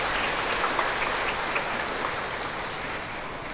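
A crowd applauds children dressed up for an event, steadily throughout, a dense wash of many hands clapping at an even level without pause.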